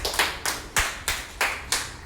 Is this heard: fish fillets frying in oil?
no